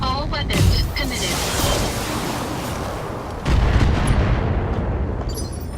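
Mech weapons firing a volley in the video game Battletech, a loud sustained roar of booming fire that swells again partway through, with a game voice briefly heard.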